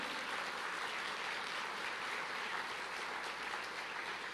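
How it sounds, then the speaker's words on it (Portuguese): A church congregation claps in a dense, continuous wash of applause that holds at a steady level throughout, with no voices rising above it. "dá uma salva de palmas para Jesus"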